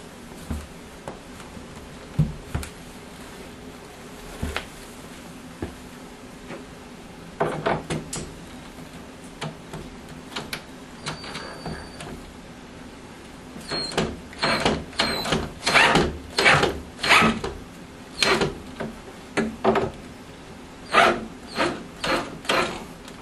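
Screws are driven into an arcade cabinet's control panel support with a ratcheting driver. Sparse clicks come first, then dense bursts of rapid ratchet clicking near the end, with no one talking.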